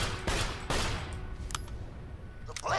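Gunfire in the video game Tiny Tina's Wonderlands: several loud, sharp shots in an irregular burst rhythm, with a few fainter cracks later and a soft rumble of game ambience underneath.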